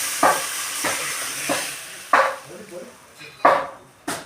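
Bay leaves and dried chilies tempering in hot oil for moong dal, stirred in a pan. Short repeated scrapes and sizzling bursts sound over a faint hiss, close and fairly loud, with no talk.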